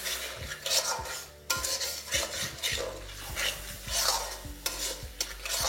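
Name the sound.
stirring and sautéing curry spice paste in a pan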